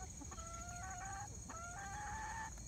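Chickens and roosters in a dirt-and-grass pen give two drawn-out, tonal clucking calls over a steady background hum, moderately close and without talk.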